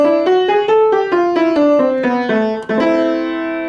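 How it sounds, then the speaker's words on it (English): A melodic minor scale is played quickly on piano, a fast run of single notes climbing and then descending, close and clear with no talking. "Play it a little quicker."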